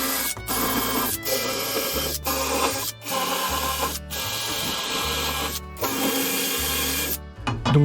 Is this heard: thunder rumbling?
no